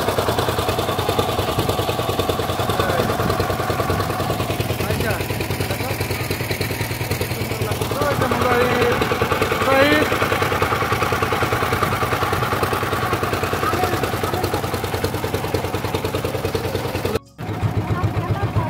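A constant boat engine drone rumbles throughout on a river, steady and close, with a voice talking over it for most of the time.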